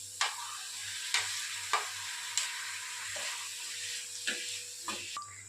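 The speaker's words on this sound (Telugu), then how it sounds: "ఇప్పుడు మనం దీంట్లో టొమాటో కూడా వేసుకొని ఫ్రై చేసుకుందాం." Onion and tomato fry in a pan with a steady close sizzle, broken by about seven sharp spatula taps against the pan at roughly regular intervals.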